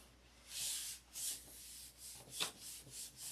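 Hand sanding with 1000 grit sandpaper on a leveled surface, quiet rhythmic rubbing strokes in short repeated passes, close and soft, no talk.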